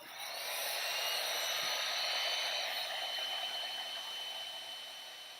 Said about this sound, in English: I'm going to use the heat gun one more time